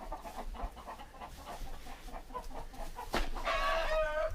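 Chickens cluck and murmur in a backyard coop with nesting boxes and a run, a steady close chorus of soft clucks that swells into louder, brighter calls near the end.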